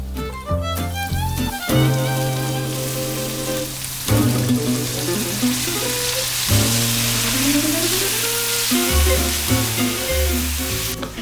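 Onions sizzle and crackle steadily in a hot pan, heard close under a layer of music.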